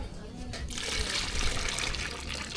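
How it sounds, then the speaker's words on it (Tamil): Dissolved tamarind water pours into a pot of sambar, a steady liquid splash and trickle that starts after a brief pause and continues close and loud to the end. "இது கூட வந்து லாஸ்ட்டாக புளிதையை கரைச்சி வச்சுருக்கோம் அதை சேர்த்துக்கலாம்"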